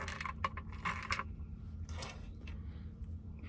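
Metal washers set onto M8 bolts during work on a Victron Lynx Power In, heard as a few light, sharp metallic clinks and taps close by, bunched early and then sparser over a low background hum.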